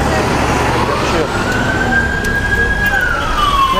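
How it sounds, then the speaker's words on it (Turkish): An ambulance siren wails with a rising sweep as it arrives at a traffic accident where a motorcycle collided with a bus, heard over loud, steady road and traffic noise. "Neyse ambulans da geldi artık"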